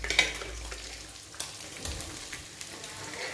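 Chopped vegetables, green chili, beans and carrot, fry in a pan for chicken Schezwan fried rice. A steady close sizzle runs throughout, broken by occasional sharp ticks and clinks of stirring, with no talking.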